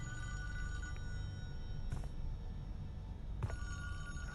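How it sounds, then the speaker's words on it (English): A telephone rings indoors, its bell sounding in two distinct bursts about a second and a half apart over a quiet background hum, fairly faint and with no one talking. "the phone is ringing"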